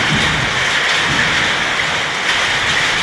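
Heavy rain with hail pouring down during a windy storm in the streets of Uruapan, Michoacán, a dense, steady roar of hiss and patter that holds constant throughout.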